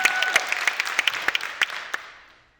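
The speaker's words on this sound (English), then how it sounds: "Round of applause again." Applause at a community tea-and-stories event: a room of hands claps briskly with sharp individual claps standing out, then thins and fades away within a couple of seconds.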